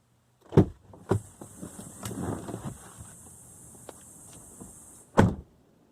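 Someone climbs out of a Hyundai Kona Electric: sharp thumps and clicks of the car door opening and closing near the start and end, with rustling movement and a faint high whine in between.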